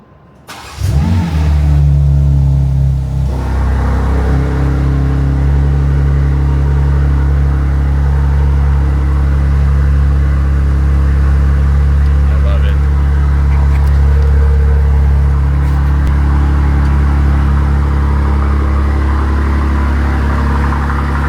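A daily-driver car's engine starts and then settles into a steady, loud, deep idle as it warms up, droning evenly and close by for the whole stretch.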